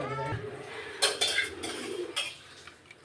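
A spoon stirs a jackfruit chocolate mixture in a pan over a low flame, giving a few scraping, clinking strokes against the metal at a close, moderate level.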